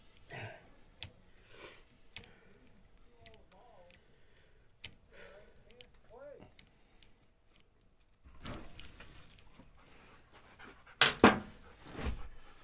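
Daisy the dog panting after a game of fetch, quick rhythmic breaths close to the microphone, with scattered clicks and a louder burst of handling noise near the end.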